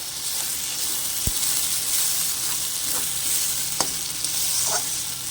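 Ground taro paste sizzles steadily in a hot wok over low heat, a constant bright frying hiss with a few soft clicks and spatula scrapes, close and alone without talk.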